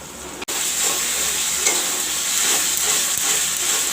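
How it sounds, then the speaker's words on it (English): Masala sizzling and frying in a pan for an egg curry, with steady spatula stirring scrapes over a continuous close hiss; a brief gap near the start, otherwise unbroken, no talking. "Now I will let the masala turn brown"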